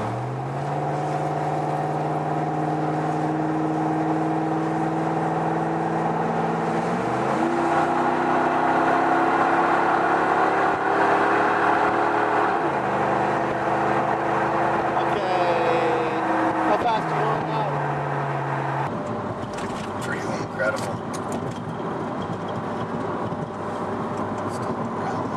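A Mini's engine drones steadily and climbs in pitch through several gear changes up to fifth, loud and close, towing an Airstream Argosy trailer, with a rush of road noise near the end.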